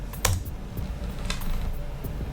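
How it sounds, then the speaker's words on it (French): Computer keyboard keys being pressed, including the Enter key, a few sharp plastic clicks spread over about two seconds against a low background hum, with no talking. "cliquons sur le bouton Entrée de notre clavier"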